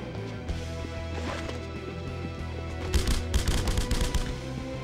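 Rapid bursts of machine-gun fire in The Punisher on PS2, loud and dense over steady game background noise, with rattling volleys building toward the end.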